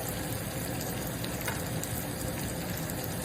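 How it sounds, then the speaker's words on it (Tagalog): Ginger sizzles in a hot pan while being sautéed for laing, a dish of taro leaves with coconut milk, peppers and pork; a steady, close frying hiss fills the clip without pause. "Ngayon, lalagyan natin siya ng luya"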